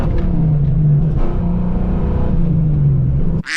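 A supercharged Retro Fox Mustang with a stock bottom end, heads, cam and gears, running on drag radials, roars loudly up through the revs from inside the car before an abrupt break at the end.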